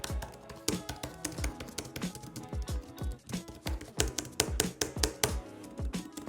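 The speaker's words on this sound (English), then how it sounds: "But here is what the typing sounds like on this keyboard. And I mean, it's definitely not gonna be a mechanical sound." Typing on a small, compact Apple keyboard with a soft, non-mechanical feel: a steady run of quick, close keystroke taps with uneven rhythm and no talking.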